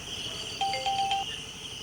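A phone ringtone chirps in a short series of thin, repeating electronic tones, fairly faint against quiet room hiss, with no talking.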